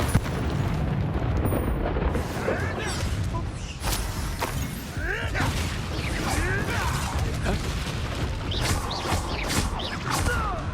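Fiery spell blasts and booms of Confringo cast in the Hogwarts Legacy video game, loud and repeated across a dense, chaotic battle with crackling bursts and voices calling out between hits.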